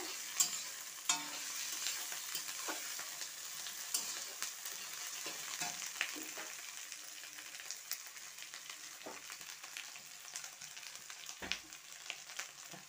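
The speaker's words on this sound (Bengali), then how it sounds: "এখন আমি কিছুটা আদা রসুন থেতো করে রেখে দিয়েছিলাম, সেইটা দিয়ে দিচ্ছি। এই যে দিয়ে এটাও আমি আরেকটু কিছুক্ষণ ভেজে নেব লাল লাল করে।" Crushed ginger and garlic fry in hot oil in a pan while being stirred, giving a steady close sizzle broken by occasional scraping stir strokes, with no voices.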